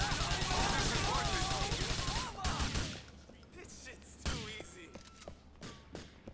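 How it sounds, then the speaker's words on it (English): Gunfire in Grand Theft Auto IV: The Ballad of Gay Tony, a dense burst of rapid shots layered over game noise for the first couple of seconds, followed by a few scattered loud single cracks amid quieter ambience. "Shoot the dude."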